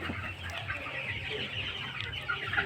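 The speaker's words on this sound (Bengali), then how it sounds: "এখানে 3 মাস বয়সের মুরগি আছে" Three-month-old Egyptian Fayoumi chickens clucking at a farm, several birds overlapping in a steady, busy chatter that continues throughout without pause.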